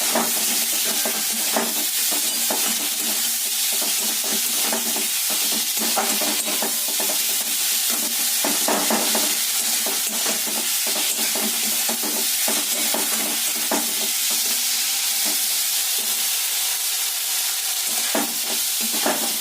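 Fish head muri ghonto masala with coriander-cumin paste sizzles and fries steadily in a pan, a continuous close hiss broken by scraping stirs, with no talking.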